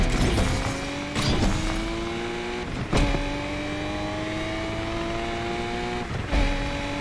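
A car accelerating in the video game Need for Speed Unbound, its engine climbing through repeated revving pulls with gear shifts between them, loud and close.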